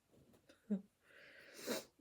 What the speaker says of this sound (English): I sneezed, now I got a runny nose.